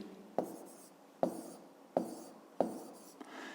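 Numbers written on paper by hand, four distinct pen taps and strokes spaced about a second apart, close and quiet, with no talking.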